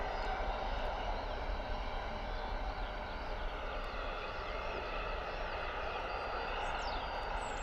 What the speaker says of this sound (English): Landing gear up on the 320 Neo.